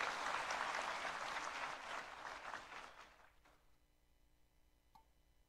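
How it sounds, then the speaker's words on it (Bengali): An audience at the RETINA 2025 event claps loudly for Prof. Dr. Kamrul Islam as he comes onto the stage, a dense burst of applause that thins and fades away within a few seconds into near silence. "স্যারের জন্য একটা জোরে করতালি"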